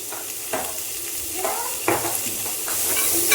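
Sliced onions sizzle and soften in a hot pan while being stirred, a steady hiss of frying punctuated by several scraping stir strokes, close and clear with no talking.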